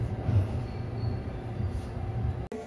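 Steady low rumble of a train rolling along rails from inside a carriage on the line from Kyoto Station to Saga-Arashiyama, with faint squeal and a brief click near the end.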